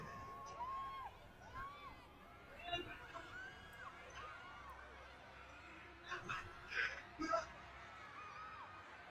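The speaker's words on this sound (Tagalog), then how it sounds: "Grabe yung sigawan." A crowd screams and cheers at the ABS-CBN Ball 2025, distant and fairly faint, swelling in bursts and peaking toward the end.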